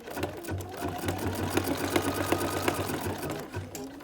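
A sewing machine runs a triple bean stitch through a greeting card, with rapid, regular mechanical stitching and a few short pauses between bursts.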